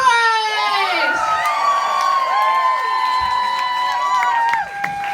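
Comedy club audience at a Manhaters show loudly cheering, whooping and applauding for comedian Adrienne Price, a dense sustained roar of shouts and clapping that drops off near the end.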